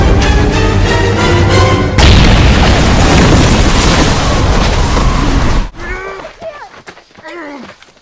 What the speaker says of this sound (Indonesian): ledakan dahsyat menghancurkan tubuh mereka bersama dengan asap.